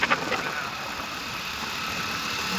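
A borrowed motorbike's engine runs steadily at idle nearby, a continuous low hum and rumble after two brief louder bumps at the start.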